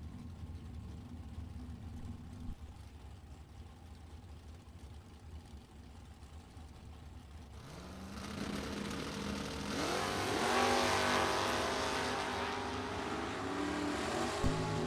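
A 1967 Chevrolet Camaro drag car sits at a drag strip with a low idle, then its engine rises sharply in loud revving about halfway through and keeps roaring, fairly close and alone without talk.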